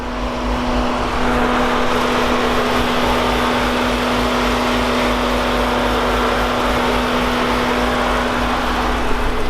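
A Jeep with a Hemi engine and an aggressive cam runs at a steady idle, loud and close, with a constant deep drone that never lets up.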